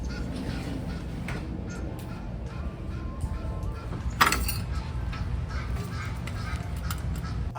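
Geese honk amid a dense outdoor wash of noise, with harsh, repeated calls blending into the constant background and one sharper burst standing out midway.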